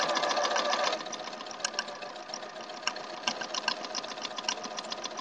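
A sewing machine stitches a seam on a log cabin quilt, a fast steady mechanical whir that shifts in tone partway through, with small ticks and clicks, close and moderately quiet.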